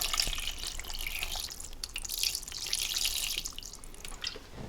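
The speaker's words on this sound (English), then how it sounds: "I'm putting in about a cup of water." About a cup of water pours into a 6-quart Instant Pot holding ribs, a close, steady splashing trickle lasting several seconds with no talking.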